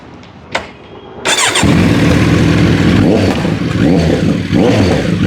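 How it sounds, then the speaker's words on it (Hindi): A Kawasaki Z900 four-cylinder motorcycle engine fires up after a couple of clicks, then idles loud and close with a throaty exhaust and rising revs. "इस बाइक का मैं एग्जॉस्ट नोट सुनाता हूँ आपको"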